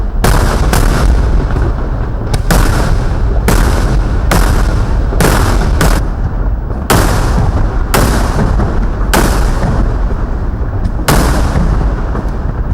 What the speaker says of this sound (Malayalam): കുടമാറ്റത്തിന്റെ ചെറുപതിപ്പും പകൽ വെടിക്കെട്ടും പൂരപ്രേമികൾ ആഘോഷമാക്കി.